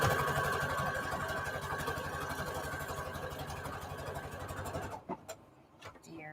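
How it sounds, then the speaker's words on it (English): A sewing machine runs fast and steady while zigzag stitching lace onto large index cards, a close, even mechanical whir for about five seconds before it stops, leaving a few brief clicks and handling noises. "Just going to keep making zigzag stitches in between."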